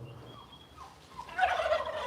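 Turkeys gobble faintly outdoors in stormy, windy weather, a burst of rapid warbling calls rising near the end over soft wind and background noise.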